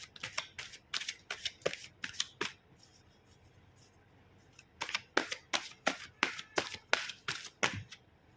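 Tarot cards shuffled by hand in two bursts of rapid, crisp riffling with a brief pause between, close and clear with no talking.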